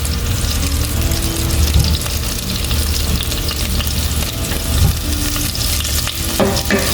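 Vegetables sautéing in a hot pan with half a bouillon cube added give a steady, close sizzle and frying hiss, with occasional scraping from stirring throughout.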